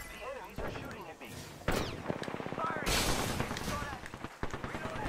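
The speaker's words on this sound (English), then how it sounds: "The enemies are shooting at me." Gunfire in the battle-royale shooter Apex Legends, rapid bursts of close shots and sharp cracks scattered across the moment, mixed with game voice lines and player talk over the firing.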